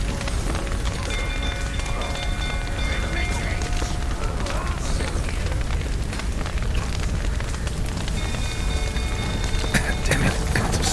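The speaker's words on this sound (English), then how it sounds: "Looks like rain." Steady rain patters and hisses throughout a scene in the video game Witcher 3: Wild Hunt, a dense continuous wash with faint tonal game sounds layered over it and occasional sharper clicks.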